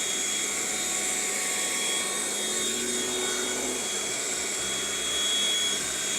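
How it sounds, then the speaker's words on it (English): A compact Philips Speed Pro cordless vacuum runs with an accessory pressed onto a surface, making a loud, steady, high whine close up with slight changes in pitch as the suction shifts. "you can press the accessory onto the surface to get a better suction"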